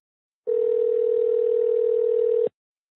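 A single long steady electronic tone of about two seconds sounds on a phone line while a call is placed to a voicemail line, clear and close, starting and stopping abruptly.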